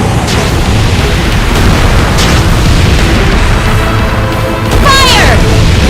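Ship cannons firing in Ys X: Nordics, heavy booming blasts layered over dense rumbling battle noise, loud and close, with a sharp whooshing burst near the end.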